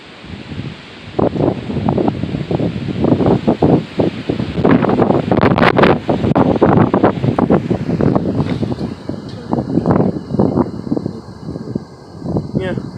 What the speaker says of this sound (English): It's blowing quite a lot. And there's a lot of wind over there by the lake.